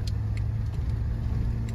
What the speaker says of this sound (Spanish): Estamos viendo que a segunda ya las revoluciones van sumamente altas y apenas vamos a 20